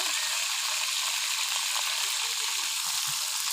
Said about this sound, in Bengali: চিংড়ি মাছগুলো দিয়ে দিলে এই দেখুন লাল লাল করে একটু ভেজে নেব।